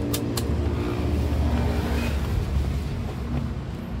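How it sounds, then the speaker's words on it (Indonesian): A 2015 Toyota Agya G automatic runs with a steady, close engine drone after two quick clicks at the start, holding even throughout with no talking. "Yuk kita masuk yuk, sekalian kita nyetater mobilnya."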